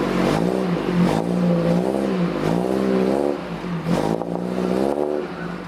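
Maruti Gypsy engine with a full header exhaust revs loudly and close up, its throaty drone repeatedly rising and falling in pitch with no speech.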